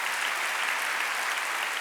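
A church congregation at a Sunday worship service claps together, a dense, even burst of crowd applause filling the room with no speech over it.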